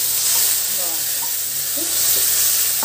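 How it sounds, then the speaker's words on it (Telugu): Curry leaves, onion and garlic sizzle in hot oil in a pan for an Andhra-style gongura chutney tempering, a steady close frying hiss with small pops throughout. "కరివేపాకు, ఎర్రగడ్డ, తెల్లగడ్డ ఇది వేగనిద్దామండి"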